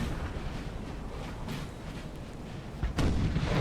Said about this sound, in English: Prepare to fire, Swiss.